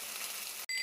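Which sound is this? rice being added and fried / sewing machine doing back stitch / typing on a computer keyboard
rice being added and fried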